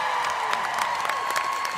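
Live concert crowd applauding, a dense steady wash of clapping with scattered louder claps, continuous and moderately distant.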